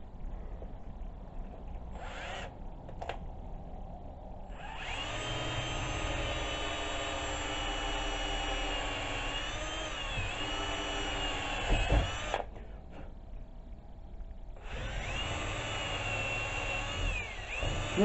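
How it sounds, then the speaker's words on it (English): A loud, continuous whine of a power drill boring into a ball peen hammer's rotten wooden handle, running steadily for long stretches, stopping briefly between bursts of drilling. "I'm just going to drill about right back in there."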